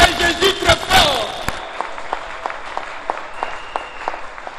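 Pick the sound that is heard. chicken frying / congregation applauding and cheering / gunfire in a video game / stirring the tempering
congregation applauding and cheering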